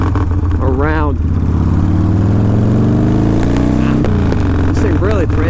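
A custom Harley Softail motorcycle engine rumbles loudly and close by, with a deep steady idle and repeated throttle blips that rise and fall. Someone talks over it.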